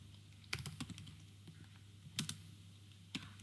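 Keys tapped on a computer keyboard in a few short bursts of clicks, quiet and close over a steady low hum, with no talking.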